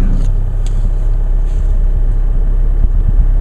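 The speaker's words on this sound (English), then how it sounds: "We'll go for a little drive here." A Chevrolet Cruze driving along, a constant low engine rumble and road noise heard from inside the car, steady and fairly loud with no talk.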